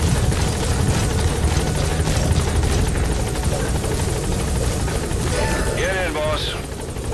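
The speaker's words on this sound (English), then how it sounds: "Support helicopter has arrived." Support helicopter arriving in Metal Gear Solid V: The Phantom Pain, with loud steady rotor thrum and engine whine throughout, close and continuous, while game voices talk over it.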